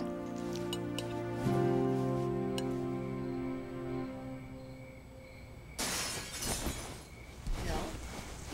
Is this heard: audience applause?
no